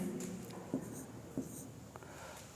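Pen or chalk writing by hand during a chemistry lesson, a faint scratching stroke sequence with a few sharper taps spaced about every second, quiet room tone throughout.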